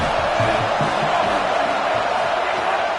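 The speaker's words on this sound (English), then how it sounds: "Got to at least quiet the crowd down a little bit because they are going bananas" A stadium crowd in the NCAA Football 27 video game roars in one steady, loud, unbroken wash of noise, with faint low thumps and voices buried underneath.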